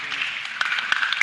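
Audience applause welcoming an engineer to the stage, a dense, steady patter of many hands with a few sharper claps, brief and moderately loud, with a voice faintly mixed in.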